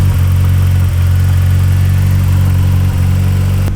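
A Nissan 200SX S13 engine runs outdoors in winter cold, a steady, loud low idle drone with a constant even rumble throughout and no talking.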